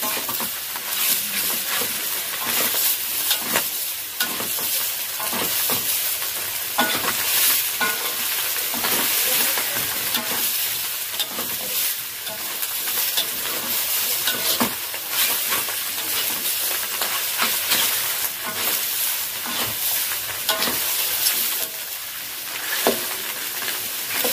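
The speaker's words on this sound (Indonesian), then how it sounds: "kita kacau dia seperti dengan bahan-bahan yang kita tumis tadi" Pig lungs being stir-fried in a wok with sautéed ingredients for a spicy dish, a loud steady sizzle with constant scraping and stirring strokes close up throughout.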